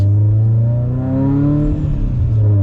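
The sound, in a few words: 760whp Subaru STI engine accelerating on a cold road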